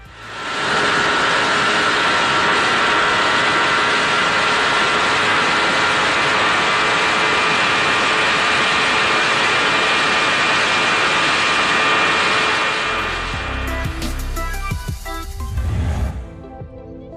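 An MV Agusta F4RR superbike engine holds a loud, sustained high-revving roar for about twelve seconds, then drops into a lower, uneven burble with sharp revving blips near the end, with no talk.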